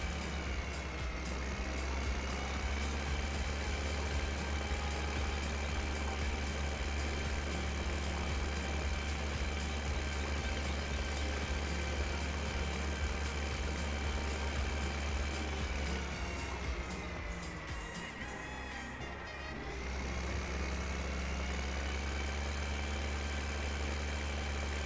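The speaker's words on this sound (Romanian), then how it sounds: "Mergem în bază cu acest tractor." Tractor engine in the farming video game Farming Simulator 2015, a steady low idling drone with a constant tonal hum that dips briefly near the end before settling back.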